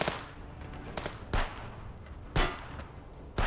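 Sharp gunshots in the video game Contraband Police, four or five loud cracks spaced irregularly over a few seconds, with a steady background ambience between them.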